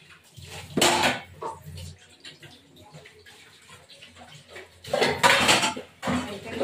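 Cauliflower curry stirred in a pan, with two loud bursts of scraping and clattering against the metal and softer rustling, faint clinks and a little background noise between them.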